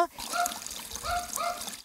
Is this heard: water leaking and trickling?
yes